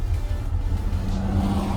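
A 1979 Ford Dentside pickup truck on the road, its engine droning steadily with a loud low rumble and road noise heard from inside the cab.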